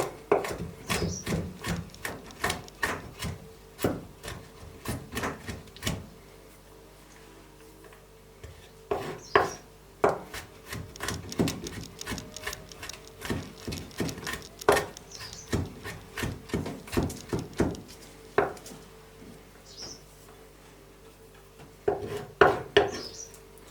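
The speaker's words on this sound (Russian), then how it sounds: "Также мелконько нарезаем его." Rapid, irregular knife taps on a wooden board, close up, coming in bursts with brief pauses between runs of fine chopping.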